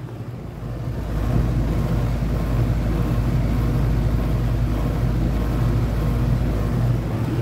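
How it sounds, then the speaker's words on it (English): A running compressor on an R22 HVAC air conditioner unit gives a steady, continuous low rumble and whoosh, rising slightly after the first second and then holding even throughout, with no voices. "My compressor is on. Clearly you could see that. My compressor is running."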